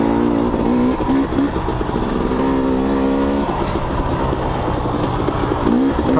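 A motorcycle held close as the rider clicks up into third gear, its steady engine drone climbing in pitch with stepped tonal rises while accelerating hard throughout.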